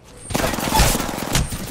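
Rapid automatic gunfire rattles in bursts during an Apex Legends firefight, loud and close, with a brief voice mixed in.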